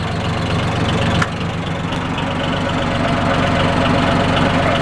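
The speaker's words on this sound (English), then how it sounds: "Right now I'm idled way down and running the recirc system to mix the chemical" A tractor engine idles steadily at low revs while running a sprayer's recirculation system to mix herbicide, a continuous rumbling drone with a faint rhythmic knock, close by and without any talking.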